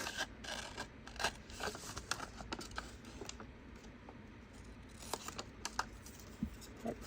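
Scissors trim the edge of a homemade label, giving soft repeated snipping and scraping cuts, close and fairly quiet, with no talking.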